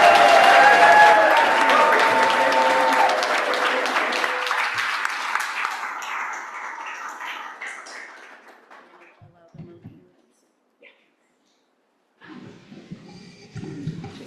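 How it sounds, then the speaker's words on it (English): A school board meeting audience gives retirees a big round of applause, loud and dense at first, then thinning and fading away to near silence before murmuring voices and movement return. "can we give them all one big round of applause?"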